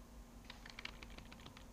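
A line of code is typed on a computer keyboard as a quick run of soft, faint keystroke clicks. One sharper click closes the burst.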